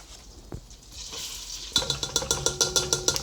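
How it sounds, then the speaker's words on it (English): Cassava flour is worked into melted butter in a pan to build a roux for a gluten-free cheese sauce. A couple of soft knocks come first, then the utensil scrapes the pan in a quick, regular rhythm over a faint sizzle. "we're just gonna work that flour around the butter, get it all mixed together"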